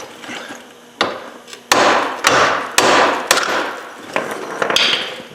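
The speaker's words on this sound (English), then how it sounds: "So only hit right here while applying downward force on the control arm." Hammer blows on a Honda Foreman ATV front end, knocking the lower control arm off its ball joint: about seven sharp metallic strikes at irregular intervals, loud and close, with no talk.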